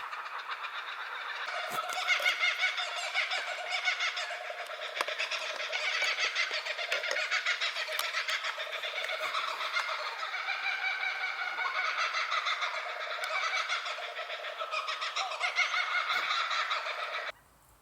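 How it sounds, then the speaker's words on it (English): Laughing kookaburras chorus in the Australian bush, a dense, continuous cackling that rises and falls for about seventeen seconds before cutting off abruptly, loud and close with no talking. "Can you hear the laughing Kookaburras call?"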